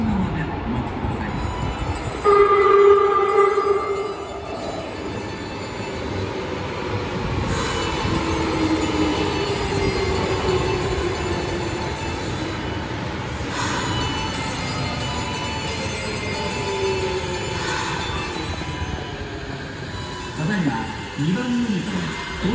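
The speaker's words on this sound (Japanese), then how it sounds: "2番乗り場に国際会館に行き最終電車が参ります" The last Kyoto Municipal Subway Karasuma Line train to Kokusaikaikan rolls into Matsugasaki Station with rumbling wheels and squealing brakes, while Japanese platform announcements play over the noise.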